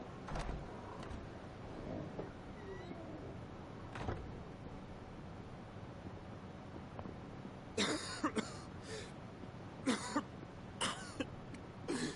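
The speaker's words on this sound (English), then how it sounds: "Coughing with the blood." A character in the video game Final Fantasy XVI coughs up blood: a quiet ambient stretch, then a run of harsh, close coughs in clustered bursts near the end.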